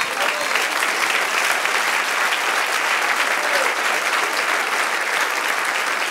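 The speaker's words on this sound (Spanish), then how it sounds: "Un aplauso al Señor." Sustained applause from a large church congregation, steady and dense throughout with no pauses.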